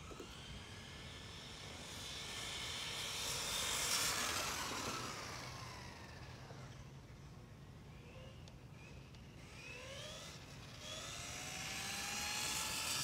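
A Traxxas 4Tec 2.0 RC car on a 7-cell 8.4-volt nickel metal hydride pack runs at full throttle, its electric motor whining steadily and swelling, fading and swooping in pitch as it passes, with no talking.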